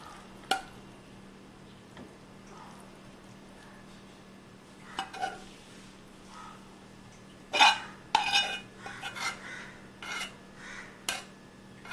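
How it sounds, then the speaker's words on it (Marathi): Methi (fenugreek) bhaji with potato being stir-fried in a pan: scattered scraping and clinking of a spatula against metal, with a burst of stirring strokes in the second half, fairly close and without talk. "भाजी छान परतून घेऊया"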